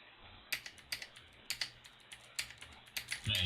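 Computer keyboard typing in a ham radio operator's shack, a run of quick, fairly quiet key clicks in irregular bursts over a low background hum.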